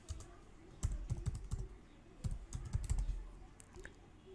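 Typing on a computer keyboard, quick bursts of close clicky keystrokes in two short runs separated by a brief pause.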